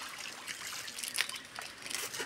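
Mountain stream water flowing down over rocks near Marleshwar temple in Konkan, Maharashtra, a soft, continuous bright rush and trickle with light splashing swells, moderately near and faint, with no talk.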